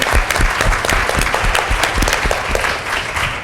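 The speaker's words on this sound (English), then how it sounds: "Let's give her a round of applause." Steady, dense applause from a conference audience at an annual dialogue on obesity in women, many hands clapping at once, loud and continuous throughout with no talking over it.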